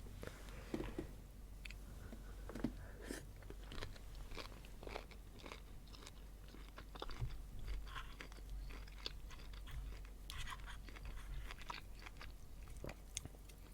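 Shrimp ramen is eaten up close in an ASMR mukbang, with repeated crisp crunches and wet chewing bites in an irregular rhythm over a quiet background.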